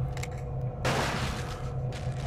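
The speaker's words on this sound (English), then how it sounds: "Let's try to shoot him." A single gunshot in Silent Hill 4: The Room, one sharp broadband blast with a short decaying tail over low ambient hum, no talk.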